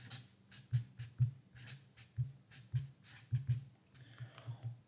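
Pen writing on a sheet of paper, a steady series of soft scratching strokes with repeated low taps as the tip moves and lifts, close and quiet, with no talking.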